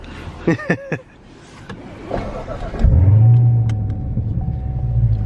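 A few brief voice sounds, then a 2019 Corvette ZR1 with a Borla X-pipe exhaust starts with a deep rumbling burble and settles into a loud, throaty idle nearby.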